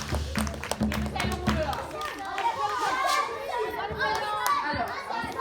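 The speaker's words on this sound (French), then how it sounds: "Applaudissez à cette fois même" An audience claps amid lively chatter and children's voices, a loose scatter of hand claps that starts stronger and thins out while people keep talking.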